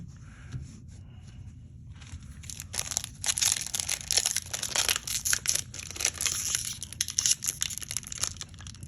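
A foil Modern Horizons 2 trading card booster pack crinkles and tears close up, starting quietly and then becoming a busy run of crackling rips and crumples.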